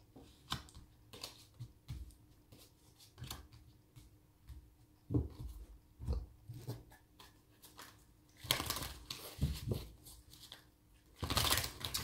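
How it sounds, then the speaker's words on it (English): Tarot cards being shuffled by hand, heard as soft intermittent taps and then two louder bursts of riffling and shuffling near the end, with no talking. "just doing a little bit more shuffling for you on camera"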